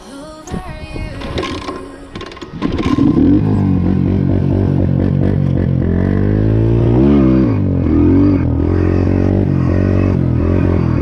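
A Highper 150 pit bike clatters briefly, then its engine starts up loud and close and revs steadily, rising and falling in pitch with a few sharper throttle blips.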